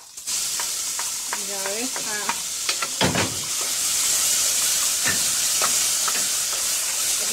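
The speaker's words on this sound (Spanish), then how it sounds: "Se estaba quemando mi cebolla, el aceite." Chopped onion frying hard in hot oil on the verge of burning, a loud constant sizzle and hiss punctuated by stirring scrapes, with someone speaking briefly over it.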